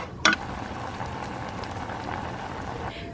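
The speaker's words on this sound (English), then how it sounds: "And just mix it up and let it come to a boil." Sangria with cinnamon heating toward a boil in a pot, a steady close bubbling hiss that rolls on for about three seconds, opened by a brief clatter.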